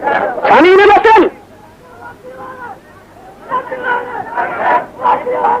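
A political crowd chants slogans in a loud, voiced burst, then settles into a quieter murmur of many voices that swells again in uneven waves.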